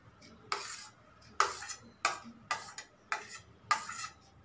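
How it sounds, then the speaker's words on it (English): A utensil mixes a no-cook sprouts salad with onion in a bowl, making about six distinct scraping clinks at a fairly even rhythm, close and clear against a quiet background. "Now I'm going to mix all of the ingredients."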